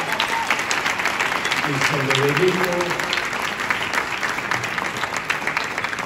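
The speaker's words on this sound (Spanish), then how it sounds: "Un aplauso para ella." An awards ceremony audience breaks into sustained applause, dense clapping that carries on steadily while someone speaks over it for a moment.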